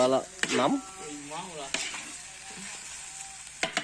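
Nasi goreng fried rice stir-fried in a hot pan, a steady sizzle and scraping of the spatula running throughout, with a few sharp clanks and people talking over it.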